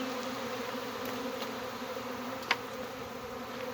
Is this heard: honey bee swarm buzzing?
yes